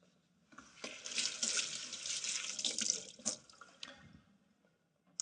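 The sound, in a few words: rinsing preserved lemon under running tap water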